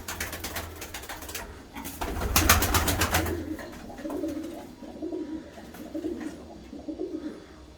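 White pigeons are released to fly, giving soft, repeated cooing with a burst of wing flapping near the start, moderately close and without talk.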